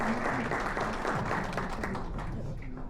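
A crowd at a car awards ceremony, the Automobile Forum awards, breaks into sustained, dense applause, loud and continuous throughout, with voices mixed into the clapping.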